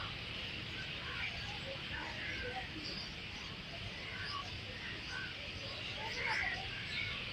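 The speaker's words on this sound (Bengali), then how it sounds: "কি বিকট আওয়াজ! পাখিদের বাড়ি ফেরা।" Flocks of birds return to roost at dusk at Chandpur Molehead, producing a dense, steady chorus of scattered chirps and twitters heard at a distance over a constant background wash.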